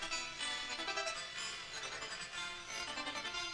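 Fully wet glitch delay effect in Ableton, a dense, stuttering wash of bright chopped repeats with no dry signal, steady and moderately loud throughout with choppy fluctuations.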